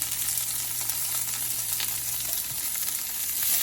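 Bacon strips searing in a hot pan, giving a steady, close sizzle and crackle with a faint low hum underneath and no one talking.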